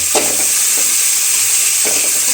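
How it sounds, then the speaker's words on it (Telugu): Curry leaves and onions sizzle loudly in a hot pan with a constant frying hiss, and a spoon scrapes through them in a few separate strokes. "కరివేపాకు, ఉల్లిపాయలు వేసి ఇలా కలపాలండి. ఇవి కాస్త వేగాక"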